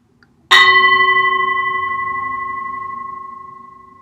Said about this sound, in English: the meditation is going to start with the sound of my bell